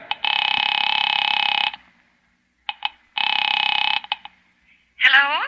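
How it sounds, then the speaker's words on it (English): Radio-drama telephone effect: a receiver is lifted and a number dialed, heard as two long steady electronic tones separated by small clicks, ending with a voice on the line. "Picking it up quietly, I dialed my daughter's number, Alec Bartlett's wife."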